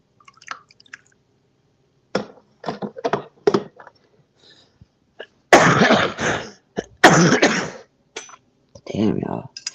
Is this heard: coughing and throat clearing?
yes